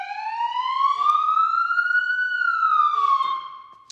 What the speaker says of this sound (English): And then we have everything on, which is going to be siren and all the lights.